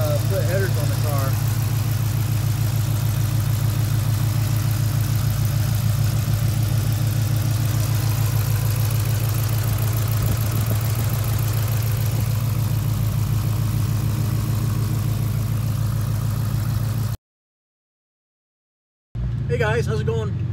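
A Hemi V8 engine idles steadily with a low rumbling drone and faint valve ticking, continuous for most of the clip before a brief silence and a short return.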